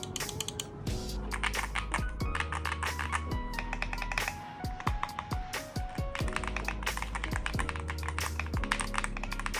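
Rapid, steady typing on an XM87 wireless mechanical gaming keyboard with hot-swap white switches, producing dense, crisp clicky keystrokes close to the listener that continue throughout with no voices.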